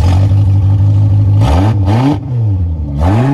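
A 2020 Ford F-150 Platinum pickup's engine idles loudly nearby, then is blipped through several sharp revs that climb and fall back, with no talking.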